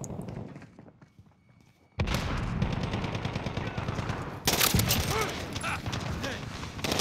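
Gunfire rattles in the Modern Warfare 2019 video game: a quiet lull breaks into loud sustained automatic bursts and heavy thumps, with a player talking under the shooting.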